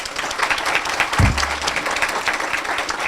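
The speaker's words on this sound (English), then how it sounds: "everybody even give him an applaud" Banquet audience applauding, a dense sustained clapping from a crowd across the room, with a brief low thump partway through.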